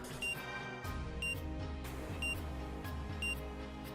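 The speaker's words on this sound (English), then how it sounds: "pursued with the sound of beeping from the room they escaped" A bomb beeping in the Root Double video game, evenly spaced high electronic beeps over a low droning game soundtrack, with no voices.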